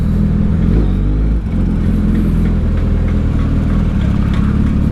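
A Suzuki Hayabusa 1340cc hyperbike engine runs loud and close, holding a steady throbbing idle with a brief dip in the middle, no voices present.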